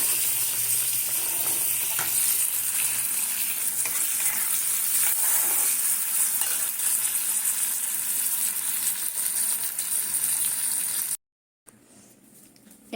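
Continuous bubbling hiss of milk boiling in a pan on the heat, with faint stirring scrapes, close up; the sound cuts off abruptly near the end.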